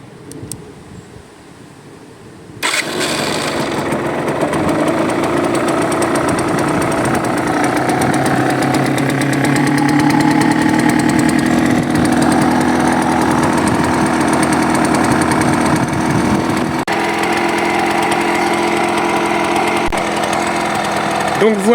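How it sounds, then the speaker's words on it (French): A Yamaha DTR 125 two-stroke motorcycle engine is started after a quiet moment and then idles steadily and loudly up close, with a continuous buzzing drone that barely changes. "le bouton pression Start pour démarrer."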